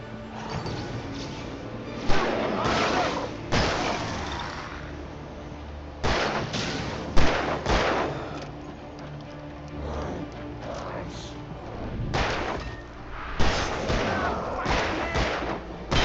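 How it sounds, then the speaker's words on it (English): Gunfire in the Alan Wake Remastered video game: loud, sharp blasts in irregular bursts, some booming with heavy impacts, mixed with crashing game effects and loud overall. "Shoot the fucking idiot right in front of us."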